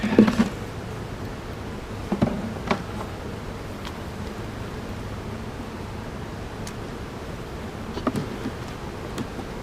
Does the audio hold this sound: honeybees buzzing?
yes